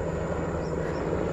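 A military helicopter at an armed forces anniversary celebration in Brunei, its steady rotor and engine drone holding at constant loudness throughout, broad and continuous with no voices.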